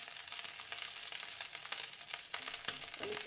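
Food for a children's tiffin box sizzles steadily in a pan after half a spoon of ghee is added, a close, even frying hiss with faint crackles and no talking.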